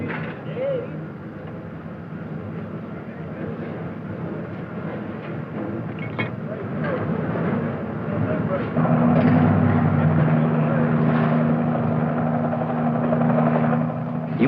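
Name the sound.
helicopter during night replenishment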